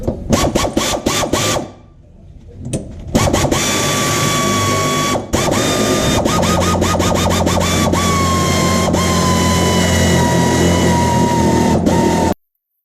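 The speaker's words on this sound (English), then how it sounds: "So it stopped turning with the pneumatic wrench." A pneumatic wrench drives a bolt during a 2JZ engine swap into a BMW E30, loud close bursts of rapid ratcheting hammering broken by short pauses, then a long sustained run that stops abruptly.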